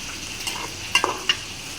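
Vegetables with a lightly fried fish head and green chillies sizzle and are stirred in a pan, a soft steady fry with a few brief scraping clicks near the end, close and with no talking.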